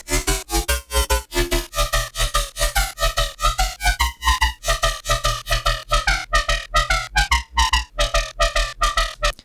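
Serum synth bass patch swept through a macro, with the octave climbing past the midpoint and the filter closing, playing as a loud, steady run of rhythmic pulsing notes with no talking.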